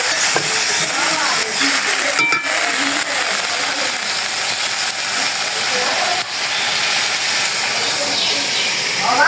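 Potato bhaji being stirred and sautéed in a pan gives a steady, loud sizzling hiss with occasional scraping from the utensil, continuous throughout with no pauses.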